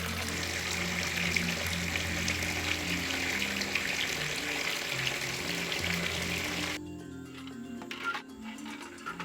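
Water pours steadily into an above-ground koi pond, a continuous broadband rush that stays loud and even for most of the clip before cutting off sharply near the end, with no talking.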